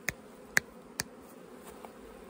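Bees around beehive boxes in an apiary, heard as a few faint, brief buzzy clicks and passes against a soft, steady outdoor background, with no voices.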